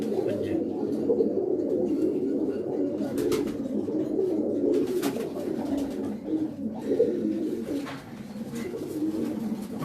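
Pigeons with feathered feet keep up a continuous low, murmuring coo in a rooftop loft. Several birds overlap into a steady drone at moderate loudness.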